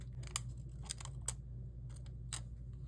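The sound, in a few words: scissors cutting paper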